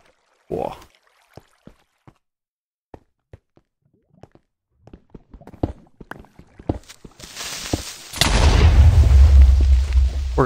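A loud, close Minecraft explosion bursts in and roars for a couple of seconds, following scattered soft thuds and footstep-like taps in the video game.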